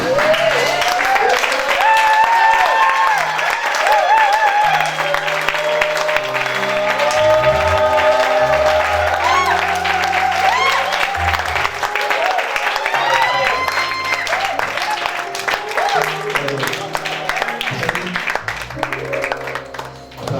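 A church congregation claps and cheers in praise of the Lord, sustained loud applause and shouts filling the room, with voices calling out and singing mixed through it for the whole stretch.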